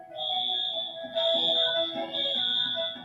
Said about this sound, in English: The alarm is not part of the video.